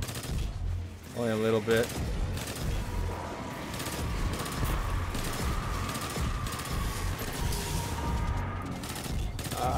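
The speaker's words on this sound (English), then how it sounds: "I hate submachine guns" Rapid submachine gun fire from the Destiny 2 video game rattles continuously under a short stretch of close player voice chat, with a dense, steady burst of shots running through most of the clip.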